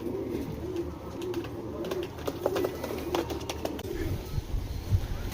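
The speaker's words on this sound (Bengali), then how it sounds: "সিলভার আইসেন্সের একটা কবুতর" A racing pigeon of Koopman bloodline coos in low, repeated soft phrases close by, joined by scattered clicks and flutter-like taps against a steady background hiss.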